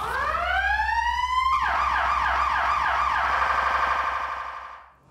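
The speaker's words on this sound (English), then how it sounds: "Next thing we do is we turn on the lights and sirens and we drive to the call." An ambulance siren is switched on, rising into a loud wail and then shifting into a rapid warbling yelp that holds steadily before cutting off, close and alone.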